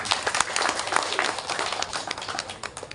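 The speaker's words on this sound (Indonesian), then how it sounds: "Tepuk tangan itu." A crowd applauds at the inauguration of a small wantilan pavilion at a temple, dense rapid clapping that is close and loud and continues without a break for the whole stretch.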